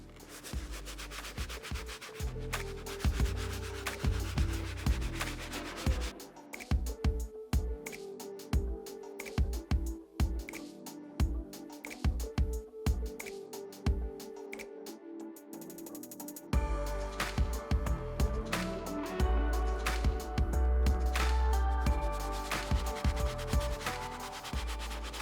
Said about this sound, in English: I did move on to the medium bristle brush just because the soft brush wasn't doing the best job at getting out like the deeper stains in the leather